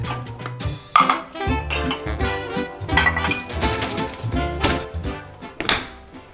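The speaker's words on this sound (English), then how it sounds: "I hate doing the dishes." Dishes being washed by hand: plates, pots and cutlery clink, clatter and thunk close by in an irregular stream of knocks and rattles, with no talking.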